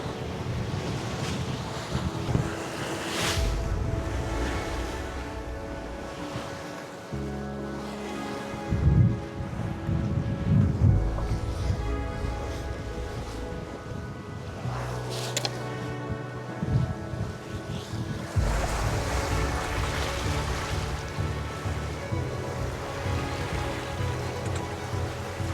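Wind buffets the microphone aboard a sailboat crossing the open sea toward Fernando de Noronha, mixed with the wash of waves against the hull, creaking and occasional knocks over a steady roar.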